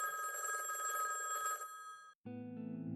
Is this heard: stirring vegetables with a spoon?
no